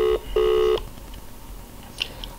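Telephone keypad dialing tones: two short steady beeps, one brief and one longer, close and clear, followed by faint higher blips and quiet room noise.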